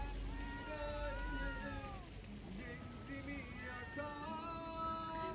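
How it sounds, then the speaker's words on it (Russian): Cats at the port of Alanya meow repeatedly, a string of drawn-out cries fairly close by but quiet overall, with light ambient noise from the harbor around them. "Снова котики."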